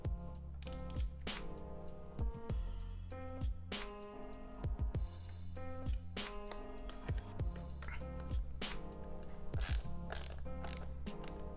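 Ratchet tightening exhaust fasteners on a 2024 Ducati Hypermotard 698 Mono, a steady run of close mechanical clicking and metallic pawl ticks with no talking.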